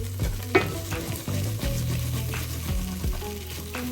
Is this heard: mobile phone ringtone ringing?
no